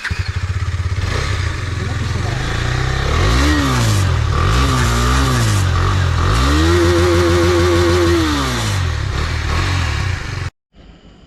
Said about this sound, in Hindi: अब आपको ड्यूक की आवाज़ सुनाते हैं